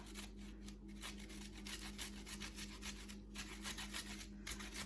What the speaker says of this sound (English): I'm just gonna grate as much as I can of the ginger into the plate.